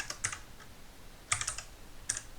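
Quiet bursts of computer keyboard typing while entering a command into a Python interpreter, a few quick clusters of clicks separated by short pauses, close and soft with no talking.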